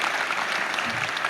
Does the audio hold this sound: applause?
yes